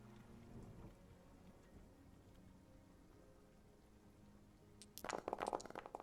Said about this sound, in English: I would say it's damn near close to heavy rain or heavy rain